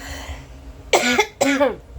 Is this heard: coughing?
yes